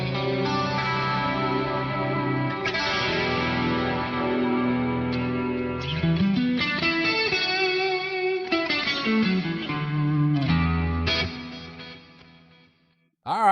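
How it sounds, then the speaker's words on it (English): Electric guitar played through a Headrush Core or Flex Prime modeler with a Boss Dimension chorus effect, lush shimmering chords and melodic lines ringing out continuously, then decaying into near silence before a brief final sound. "the Boss Dimension chorus."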